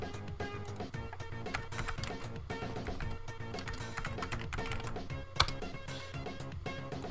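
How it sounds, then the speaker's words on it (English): Fingers tap rapidly on a Commodore Amiga computer keyboard, a fast, irregular stream of quiet key clicks heard close up, with one sharper click near the end. "I'm typing it in the pattern box."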